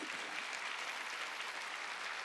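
A congregation claps during a Sunday church service, producing a steady, moderately quiet patter of many hands that continues evenly without talk.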